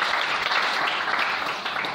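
A congregation applauds in a church service acclaiming the Lord, steady dense clapping filling the space throughout, with no talk over it.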